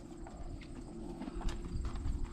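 Hooves of a horse on a farm clip-clop in a quick, uneven run of knocks close by, steady in loudness over a low background rumble.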